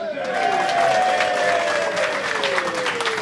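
An audience at a trades business qualification launch event cheers and claps loudly on cue, a dense crowd roar with applause lasting the whole short moment, with voices mixed into the noise.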